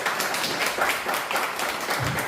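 Audience applause at a Korean cultural institute's commemorative event, a steady dense patter of many hands clapping at moderate level for a couple of seconds, with no voices over it.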